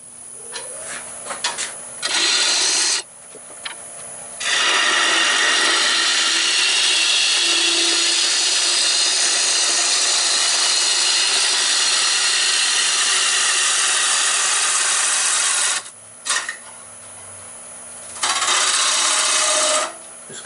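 A wood lathe roughs out a wooden bowl, the gouge making a long, loud, steady raspy cutting hiss that breaks off briefly between passes.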